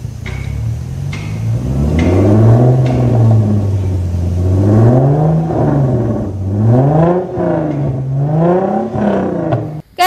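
Hyundai Genesis 3.8 fitted with a new quad-tip exhaust revs loudly up close, several rising and falling engine sweeps repeating in quick succession with no talk.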